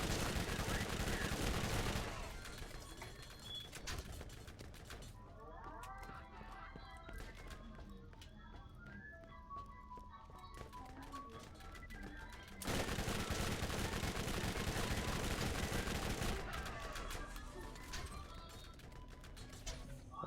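Video game gunfire in Borderlands rattles out in loud rapid bursts at the start and again midway, with scattered shots and game effects in the quieter stretch between.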